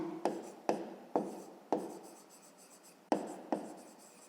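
A pen writes by hand on paper while a fifth-grade maths problem is worked out, in short scratchy strokes: about seven quick bursts, each starting sharply and trailing off, close and fairly quiet with pauses between, no voices.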